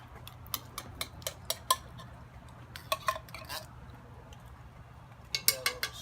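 Metal spoon stirring chili with kidney beans in a Dutch oven outdoors, a series of sharp scraping clinks in quick bursts, with a lull and then a final cluster, over low steady background hum.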